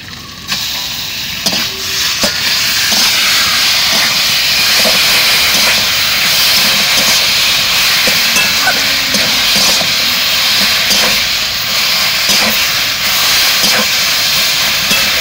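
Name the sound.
stirring taro greens with crab in a pan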